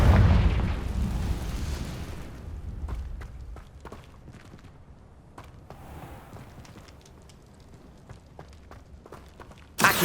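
A Confringo blasting spell in Hogwarts Legacy bursts loudly at the start and fades into a rumbling tail, followed by scattered soft footstep-like taps and a sharp burst at the very end.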